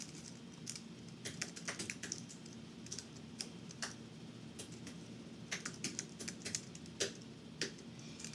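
Fingers tap on a computer keyboard in quick irregular bursts of keystrokes, close but quiet, over a soft steady room hum as a title field is filled in.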